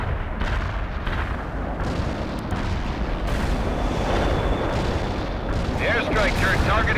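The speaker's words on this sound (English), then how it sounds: "Shells on the way." Artillery shells exploding in the World in Conflict game, a continuous dense rumble of blasts and booms that stays loud throughout, with voices also present.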